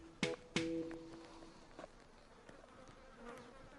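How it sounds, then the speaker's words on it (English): Bees buzz outdoors, faint and close, with two quick buzzing passes near the start followed by softer scattered buzzing and rustling. "Load of bees here."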